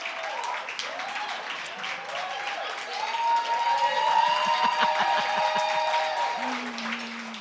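Audience clapping at a closeout ceremony for a women's leadership programme, steady applause filling the room for several seconds and swelling midway, with a speaking voice heard over it.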